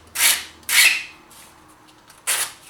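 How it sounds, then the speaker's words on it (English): Sandpaper smooths a freshly cut, bent-off edge in three quick scratchy passes, each a short close rasp separated by brief pauses. "that's why you had your sandpaper."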